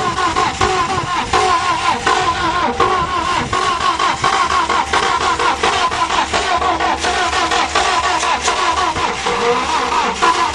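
A Ford Topaz with a cracked cylinder head runs steadily, its engine droning nearby with a rough, uneven pulse and no talk over it.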